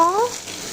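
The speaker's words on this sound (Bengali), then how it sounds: "এখানে চুনো মাছ রান্না করছি, ভাজা বসিয়ে দিয়েছি" Small chuno mach fish frying in a pan, a steady close hiss of sizzling oil lasting under a second, with a brief higher tonal whine at the start.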